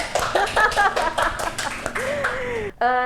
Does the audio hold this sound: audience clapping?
yes